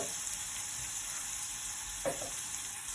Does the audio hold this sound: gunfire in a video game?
no